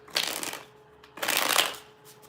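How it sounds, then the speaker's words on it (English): Tarot cards get a fast shuffle, two loud close riffling bursts, each about half a second, separated by a brief pause, alone without talk. "Fast shuffle."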